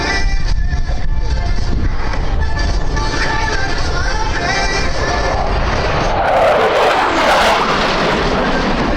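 Loud, constant roar of USAF Thunderbirds F-16 jets flying in formation at an air show, with the pitch shifting as they pass and gusty wind buffeting the microphone throughout.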